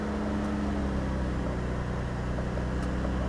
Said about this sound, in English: Oh my god, the car just started by itself